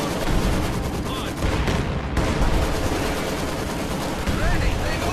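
Gunfire in the Company of Heroes 2 battle game, dense rapid bursts of rifle and machine-gun fire with heavy explosions mixed in, loud and continuous, with soldiers shouting over the shooting.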